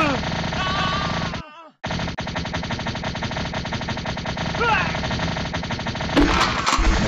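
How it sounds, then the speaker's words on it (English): Rapid machine gun fire rattles continuously in the arcade-style video game Alpha Guns, loud and dense, with a brief gap early on, game sound effects and voice shouts over it. "Machine gun."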